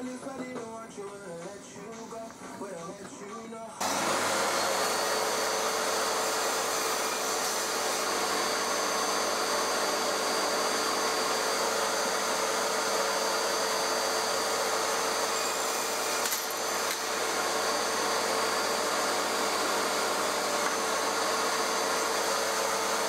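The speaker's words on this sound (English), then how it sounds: "I can cut the shoulders of the tenon joints, and I'll do that on the crosscut sled" Table saw with crosscut sled cutting oak tenon shoulders for a table frame: after a few quiet seconds the motor starts and holds a steady, loud, continuous whine, with one brief change near the end.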